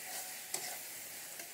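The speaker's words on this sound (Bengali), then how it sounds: "পেঁয়াজ দিয়ে একটু মিলিয়ে নেব" Onions being stirred into sizzling masala in a pan for paneer korma, a soft steady fry hiss with a couple of brief spoon scrapes, close and fairly quiet.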